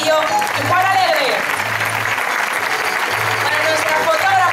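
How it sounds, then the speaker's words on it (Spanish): Loud, sustained applause from a crowd at a jota dance festival during the patron saint celebrations, dense clapping filling the clip while a voice speaks over it. "Fuerte aplauso para Roberta Castillo y Juan Alegre."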